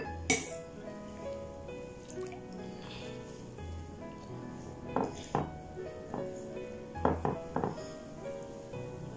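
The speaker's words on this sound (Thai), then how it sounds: "ใส่น้ำข้าวลงไปในปริมาณแค่นี้นะคะก็ท่วมผักดองแล้วนะคะ" Rice water being poured over pickling vegetables, with soft liquid splashing and trickling broken by sharp clinks of a container and utensils, close and fairly quiet.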